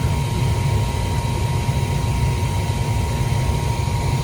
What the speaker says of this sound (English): Comes the blower.